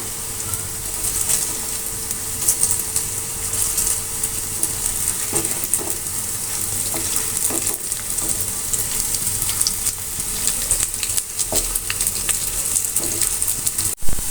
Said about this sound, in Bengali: বড়াগুলো ভেজে নেব।